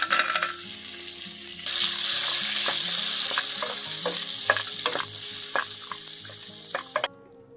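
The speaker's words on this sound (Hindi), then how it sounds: "थोड़ा सा बटर डाल दिया जिसमें हम अपने कैश्यू को थोड़ा सा फ्राई करके निकाल लेंगे" Cashews fry in melted butter in a pan with a loud, steady sizzle, broken by scattered clicks and scrapes of stirring, then cut off abruptly.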